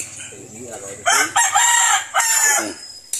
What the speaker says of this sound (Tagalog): Parang galit na galit yung manok oh.